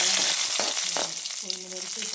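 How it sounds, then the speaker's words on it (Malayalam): Urad dal frying in oil on a low flame after mustard seeds have popped, a close, steady sizzle with soft crackles and a few brief stirring scrapes, no talking. "ചെറിയ തീയിലിട്ടാൽ മതി ഉഴുന്ന്"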